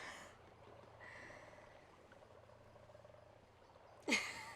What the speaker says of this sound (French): le bruit des grenouilles, ça te dérange